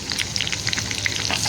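Agri Koli spice masala hits hot oil and fries with a loud, dense, crackling sizzle. Rapid pops spread through the sizzle, heard up close with no voices.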